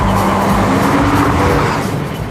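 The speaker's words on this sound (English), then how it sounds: "This is a high-performance Porsche Boxster S and my next connection." A high-performance Porsche Boxster S drives past loudly and close, its engine drone steady and rich, with a faint edge of tire noise as the sound eases slightly at the end.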